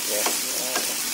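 Bamboo shoot stir-fry being stirred in a pan after a little water is added: a soft continuous sizzle with two distinct scraping strokes of the spoon, close and clear, no voices.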